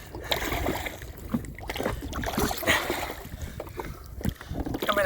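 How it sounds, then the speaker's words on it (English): Oars work a small dinghy across open water out to an anchored yacht during a bareboat sailing charter, with splashing and water noise, wind buffeting the microphone and a few faint voices. "I'm rowing my wife out to her yacht, because that's what guys do."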